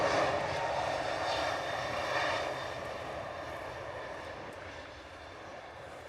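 A Southwest jet's engines at a Jamaican airport make a loud, steady roar that eases slightly over several seconds, heard alone without talk.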